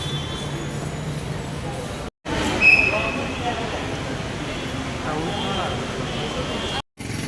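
Kochi metro train ride, a continuous rumbling and hissing of the moving carriage with a brief high squeal, interrupted by two short silent gaps, with occasional voices in the background.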